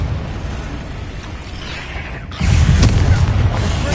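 Explosive Confringo spell blast in the game Hogwarts Legacy, a sudden loud boom that cuts in midway over a rumbling background and then holds as a sustained, crackling roar.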